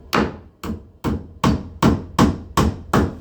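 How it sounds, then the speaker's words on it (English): The heel of a hammer tapping a wooden door: seven evenly spaced, sharp knocks at close range, each with a short ringing tail, about two per second. "I don't want to hit it with the hammerhead. I want to hit it with the heel."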